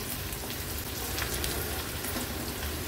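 Ginger, garlic and chilli sautéing in hot oil for a drumstick-leaf vegetable dish give a steady, even sizzle throughout, close and moderately loud, with no talking.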